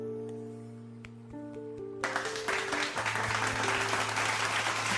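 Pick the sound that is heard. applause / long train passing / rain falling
applause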